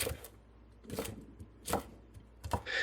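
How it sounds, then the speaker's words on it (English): Knife chopping fresh garlic scapes on a cutting board, four or five separate sharp chops spaced about a second apart, close and fairly quiet, with no talking. "I'm just going to start chopping."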